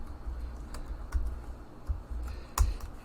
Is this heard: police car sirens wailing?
no